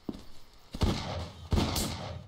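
Gunfire in the shooter game Brain Out, with two sharp, loud shots about three-quarters of a second apart, each trailing into a brief rumbling decay, then a burst of higher metallic clatter like a reload.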